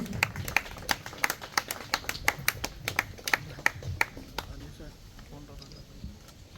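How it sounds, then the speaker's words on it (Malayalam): Scattered clapping from an audience at a Malayalam film launch event, a sparse run of sharp individual claps that thins out toward the end, fairly quiet and mixed with a speaker's voice. "ഒരു കൈയടി കൊടുക്കുക എല്ലാവർക്കും"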